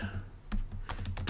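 Close, quick keystrokes on a computer keyboard while coding a JavaScript Phaser 3 game, several crisp clicks in an uneven burst against a low hum.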